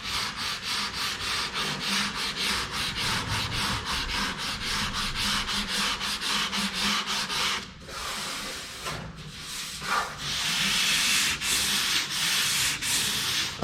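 Hand sanding of a surface with a steady, close back-and-forth scratching in regular strokes, briefly pausing near the end before resuming, no voices.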